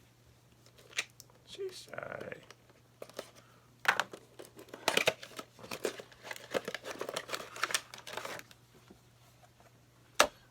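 Scissors cut open the plastic and card packaging of a Black Series action figure. Scattered snips, crinkles and tearing rustles come in uneven bursts, close and fairly quiet, with a brief spoken exclamation.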